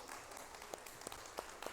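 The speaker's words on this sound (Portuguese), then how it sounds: "Vamos aplaudir o Senhor?" A congregation applauding during a church service, faint scattered claps with a few sharper hits standing out over a soft, steady background.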